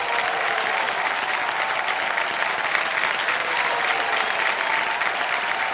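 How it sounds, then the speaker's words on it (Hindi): Steady, full applause fills the KBC quiz show studio as a contestant receives a cheque, unbroken clapping from a large audience lasting several seconds. "ताली बज जाए इनके लिए"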